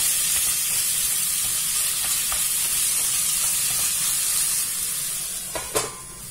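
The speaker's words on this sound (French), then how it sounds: "je vais mélanger, je vais couvrir et laisser cuire tranquillement encore" Chicken pie filling cooking in a pan, a loud continuous close sizzle with faint stirring scrapes, ending in a couple of clinks as it is covered.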